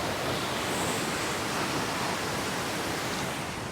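Godachinmalki waterfall near Gokak gushing with heavy flow, a loud, steady broadband roar of crashing water that fills the whole stretch without a break.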